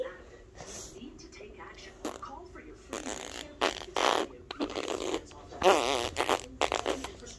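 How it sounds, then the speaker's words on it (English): Cartoon fart noises in an Alphabet Lore animation, several short sputtering bursts mixed among whispery character voices and talk. "Fart."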